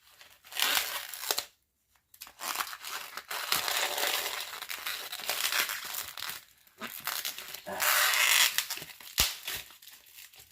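Aluminum foil crinkled and handled in bursts of crisp crackling and rustling, close up, with short pauses between handlings and no talk.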